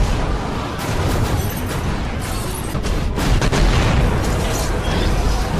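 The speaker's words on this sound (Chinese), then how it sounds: "巨大的爆炸直接就把潜艇炸飞" Depth charge blasts rocking a submarine in a World War II naval war film, a dense, roaring rumble of booms and bursts sustained across the whole stretch with no clear gaps.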